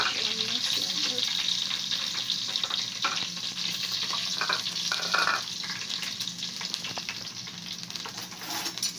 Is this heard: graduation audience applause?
no